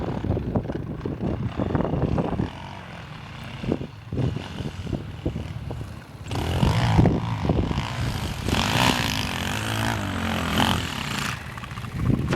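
A KLR650 dirt bike climbs a hill on a near-new Shinko 244 rear tire, its single-cylinder engine droning steadily and loudly throughout, with the revs rising and the note coarsening partway through the run.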